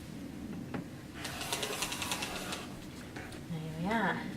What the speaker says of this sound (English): So just using your ruler there and your rotary cutter, cut the crease open.